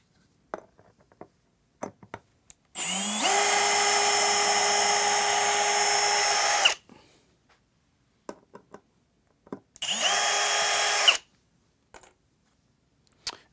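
A power drill drives screws into a DIY solar generator, with two long, loud, high whirring runs of about four and one and a half seconds, separated by quiet clicks and handling taps.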